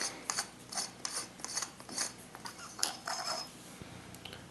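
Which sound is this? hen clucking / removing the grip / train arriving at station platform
removing the grip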